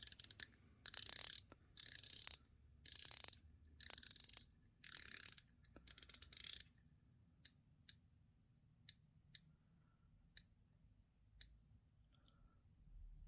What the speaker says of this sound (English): Let's check out the bezel for consistency.